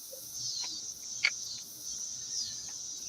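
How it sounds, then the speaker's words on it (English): Crickets chirping in a slowed-down recording: a steady, drawn-out high whirring drone with faint, scattered chirps, quiet throughout with no talk. "Sounds like crickets on slow speed."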